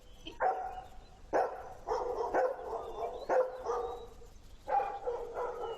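A dog barks in short bursts, about six barks spaced unevenly, moderately loud and close, with no talking.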